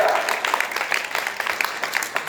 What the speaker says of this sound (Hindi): अपने लिए ताली बजा